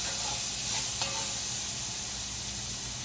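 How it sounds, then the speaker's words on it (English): Food sauteing in an Instant Pot gives a continuous, fairly loud sizzle with a few faint clicks of stirring near the start. "I'm going to saute this for a minute here."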